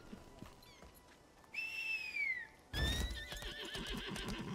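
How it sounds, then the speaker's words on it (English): A horse whinnies twice in succession in the video game Lost Ark, a high wavering neigh rising over ambient outdoor game sounds, with a louder burst of noise joining the second call. "Horse."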